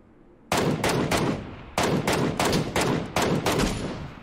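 Gunfire in the battle royale game PUBG: a rapid string of loud, sharp shots in about six bursts, each a quick volley of cracks with short gaps between, close and dominant with no talking.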